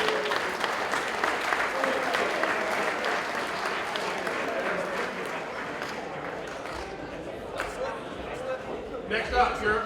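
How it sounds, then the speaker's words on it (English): Applause from a crowd at a high school esports awards ceremony for Carmel High School, a steady wash of clapping with crowd noise mixed in, running through the whole stretch at moderate level. "One more round of applause for Carmel High School."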